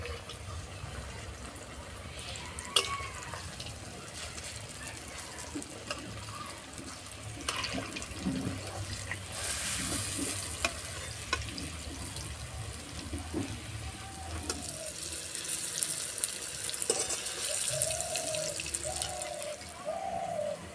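Pan-fried pumpkin kofta balls hiss and crackle nearby in a continuous sizzle, with a few sharp clicks and knocks as they are turned, and faint bird calls behind.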